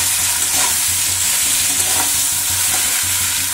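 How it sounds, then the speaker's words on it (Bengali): Shredded cabbage with turmeric and salt is stirred in a frying pan, a loud continuous close sizzle with soft rhythmic scraping of the spoon and no voices. "এবারে ভালো করে এটাকে আমি একটু নেড়ে নেব, মানে হলুদ আর লবণটা একটু মিশিয়ে নেব।"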